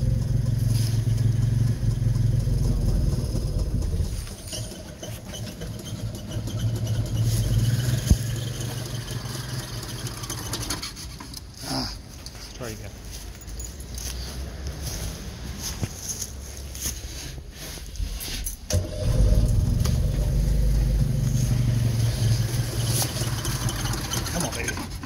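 A red Honda 600 engine runs steadily throughout, a continuous rough mechanical drone that swells louder near the start and again toward the end, with voices talking over it at times.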